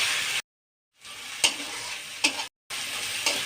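Garlic paste fries with reddened onions in hot oil for an egg curry, a bright, loud sizzle interrupted by two brief silent gaps and a few sharp stirring clanks.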